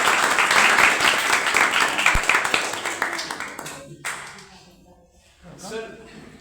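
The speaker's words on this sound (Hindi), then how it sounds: "एक बार जोरदार तालियां" An audience at a school yoga talk with students present breaks into loud, dense clapping that thins out and fades over a few seconds, with voices talking as it dies away.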